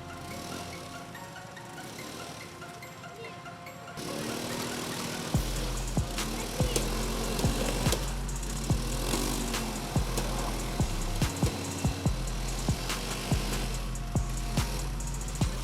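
A 2x2 ATV motorbike engine working through a deep puddle on a trail: a quiet stretch gives way to a loud, steady engine drone with regular thumping pulses as the bike pushes through water.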